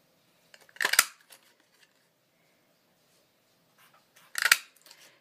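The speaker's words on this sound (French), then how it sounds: "Je vais prendre ma perforatrice et je vais découper ma fleur" A paper punch cuts paper flowers with two sharp, crisp snaps spaced a few seconds apart, close to the ear, each followed by faint rustling in a quiet room.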